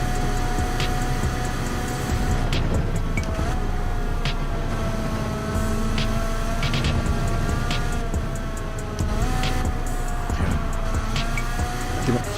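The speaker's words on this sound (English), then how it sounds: "Keep on hitting the rev limiter when I come through my downshift through there." A car in Gran Turismo 7 racing at Monza screams along at high revs, its engine note sweeping and bouncing off the rev limiter on downshifts, with tyre squeal and a few sharp clicks over a continuous loud drone.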